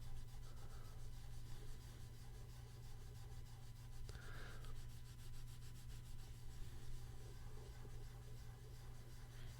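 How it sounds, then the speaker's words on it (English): Steady, faint, close rubbing on a baseball card to lift a wax stain, an even pressured scrubbing texture with no talk. "You can hear the rubbing sound that I am definitely applying some pressure"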